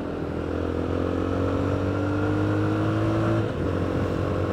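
Jawa 42 FJ motorcycle pulling hard in third gear, a loud steady engine drone with its pitch rising continuously before dipping sharply near the end as the throttle eases, heard close with no talking.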